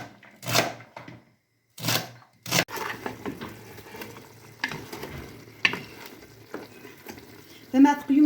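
Food sizzles while being stirred in a pan during a home-cooked Kabyle couscous recipe, with several short scraping bursts over a steady low sizzle and a louder stir near the end.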